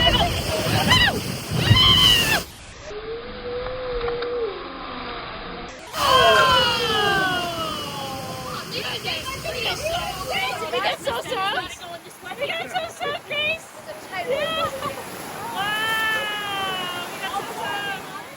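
Water splashing at Disney's Animal Kingdom during a river rafting ride, with a rush of splashes and spray mixed with loud crowd chatter, excited shouting and screams close by.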